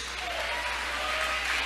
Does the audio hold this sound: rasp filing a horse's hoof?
no